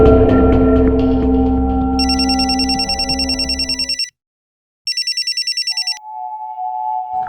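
A telephone rings in two bursts of rapid electronic trilling, first over a fading music bed, then alone after a brief silence, followed by a steady tone.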